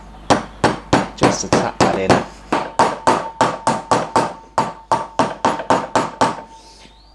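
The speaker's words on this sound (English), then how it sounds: "I might just want to just really gently, it's just a soft hammer again," A soft hammer taps a wheel bearing into a brake hub during an MGB brake overhaul, with about twenty sharp, evenly spaced knocks striking close by in a steady rhythm and a brief word spoken near the start.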